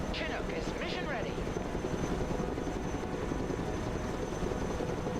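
Chinook helicopter in the Broken Arrow video game, a steady, dense rotor drone that fills the whole span at constant loudness, with a few brief chirping radio-like sweeps near the start.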